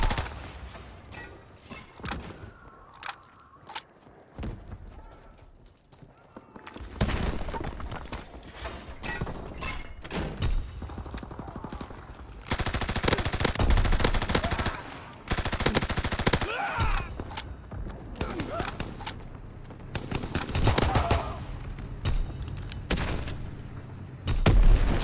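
Gunfire in the video game Call of Duty: WWII, bursts of rapid shots and loud booms coming in irregular clusters with quieter gaps, battle noise building in the second half.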